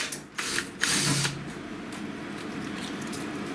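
A drill bores two short pilot holes through a machine casing, two brief whirring bursts close by, followed by a lower steady mechanical hum.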